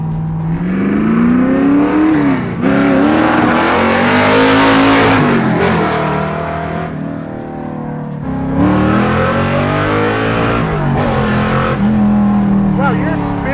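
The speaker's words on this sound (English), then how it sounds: "Wow, you're spinning tires" A 750-horsepower big-block Mercury Cougar muscle car roars loudly at high revs as its tires spin, the engine note rising and falling in sustained surges with excited voices talking over it.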